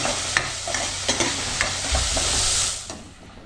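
Tomatoes cooking in a pan, a close sizzle under repeated stirring scrapes and taps, swelling into a louder hiss for a moment before easing off, with no voices.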